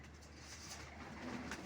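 A pipla pigeon coos softly nearby, a brief low murmuring call against quiet background noise.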